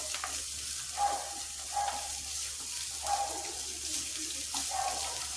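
Curry leaves sauté in a pan until browned for a Kerala-style curry, a steady soft sizzle and hiss with a few faint stirring clinks and no talking.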